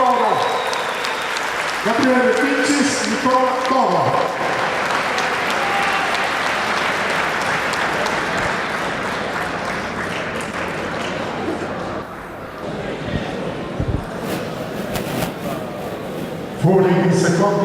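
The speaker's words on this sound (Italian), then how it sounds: "L'applauso per loro." An audience at an amateur boxing evening applauds 13-year-old boxers with sustained, dense clapping, while an announcer speaks over it at the start and end.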